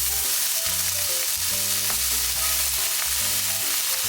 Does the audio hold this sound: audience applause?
no